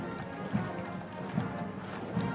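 Horses' hooves clip-clop at a slow, regular walk in a ceremonial procession of the Blues and Royals with the drum horse, three distinct hoof beats against a soft distant crowd murmur.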